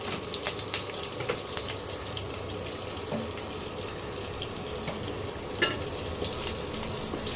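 Whole spices and chillies spluttering in hot oil for a Bengali fish curry, a steady close sizzle with scattered sharp pops and crackles throughout.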